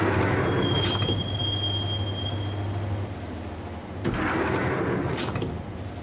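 A subway train rides toward Roscoe Street Station in the video game Max Payne, a steady rumbling rattle of wheels on track with a thin metallic squeal early on and brief clanks.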